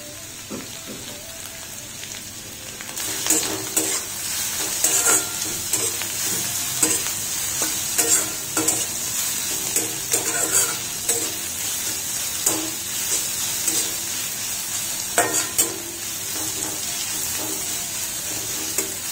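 Bamboo shoot noodles, cooked without onion or garlic, sizzle and crackle in a pan over a medium-high flame, with repeated scraping and clattering as a utensil stirs and tosses them.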